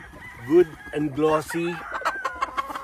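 A thin-legged gamecock gives a few close, throaty clucks and a short crow-like call, while someone speaks briefly in the background.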